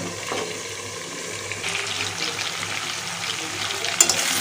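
Chicken pieces are sautéed in a pan for a village-style chicken curry, a soft continuous sizzle with scraping stir strokes and a couple of louder clatters near the end, close and without speech.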